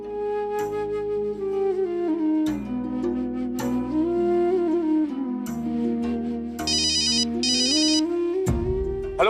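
Telephone ringtone playing a looping electronic melody of stepped tones with bright trilling bursts, loud and close, repeating for several seconds without speech.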